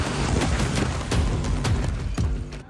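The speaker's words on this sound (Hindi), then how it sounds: "इजरायली मिसाइल का धमाका कितना जबरदस्त है" An Israeli missile strike in Nuseirat, Gaza, heard as a dense, loud barrage of booming blasts and crackling bursts. The impacts repeat in rapid irregular succession and end in a sudden cutoff.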